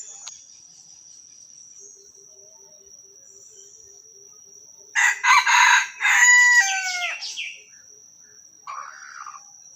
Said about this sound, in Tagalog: ganda ng tilaok niya